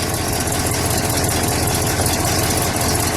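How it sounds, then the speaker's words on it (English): A 455 cubic inch V8 in a 1970 Oldsmobile 442 convertible idles steadily and loudly up close, a continuous low rumble with an even, slightly lumpy pulse and no voices. "So we're going to let it idle."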